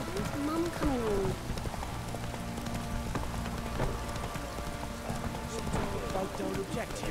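Horse hooves galloping in the Witcher 3 video game, a rapid steady clip-clop rhythm running throughout amid ambient weather-like noise, with a voice talking over the game sounds.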